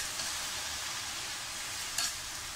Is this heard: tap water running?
no